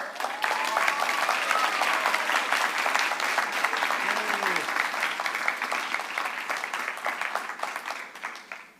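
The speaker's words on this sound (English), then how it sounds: "I think we're not the only people applauding" Dense, sustained applause from a large audience at a student awards show, even and continuous throughout, with faint voices beneath before it tapers off at the very end.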